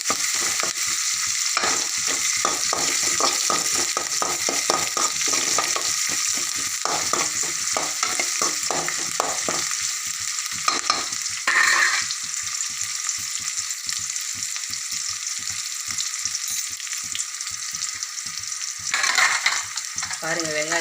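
Onion and garlic fry in oil for a tomato thokku, with a continuous loud sizzle and rapid rhythmic stirring scrapes against the pan throughout.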